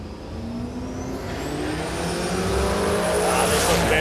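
At a Warwick drag racing event, a Toyota 1UZ 4-litre V8 one-tonner and a Ford Falcon accelerate hard down the strip, engine noise swelling louder as the cars scream past with rising pitch.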